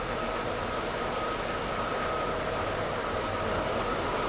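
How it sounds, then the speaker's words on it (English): A four-coach passenger train in the Stepford County Railway game, rolling along the rails as a steady, even rumble and hiss with a faint tonal whine, heard alone at moderate level. "This train is formed of four coaches."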